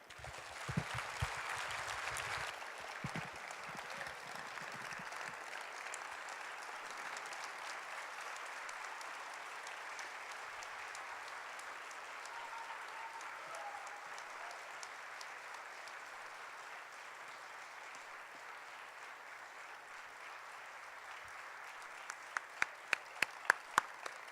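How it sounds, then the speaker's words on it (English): Audience at a university book launch and capstone ceremony keeps up sustained applause, a long dense wash that gradually thins toward the end, with a few sharp individual claps standing out in the final seconds. "How long can we keep clapping for this?"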